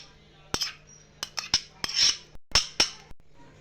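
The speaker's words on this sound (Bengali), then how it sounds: "দিয়ে ভালোভাবে কেকের ব্যাটারটা মিক্স করে নিচ্ছি" A spoon stirs dry fruits into cake batter in a bowl, giving irregular close clinks and soft scraping strokes, about eight distinct knocks spread over a few seconds.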